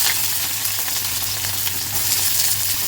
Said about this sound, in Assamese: তেলখিনি গৰম হৈ গৈছে, তেলত দিলোঁ মই পিঁয়াজ।